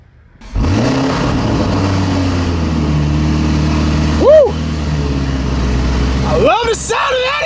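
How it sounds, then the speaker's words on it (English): A car engine holds a steady, loud low drone that swells briefly in a rev partway through and again near the end, with someone talking over it. "the sound of that engine!"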